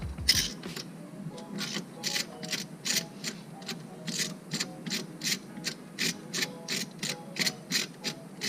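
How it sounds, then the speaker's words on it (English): A ratchet clicks in quick repeated bursts while loosening the mounting bolts on the clutch delay valve of a 9th-generation Honda Civic, close and crisp, with brief pauses between strokes. "let's get these mounting bolts off"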